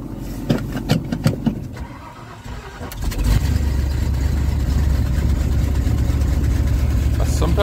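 A 1987 Ford F-150 truck engine, cold, stutters and turns over, then catches and settles into a steady, loud, rumbling idle that continues to the end.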